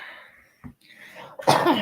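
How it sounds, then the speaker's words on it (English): A short, sharp cough, then a second, louder and harsher cough, both close by. "we already know about the coughs"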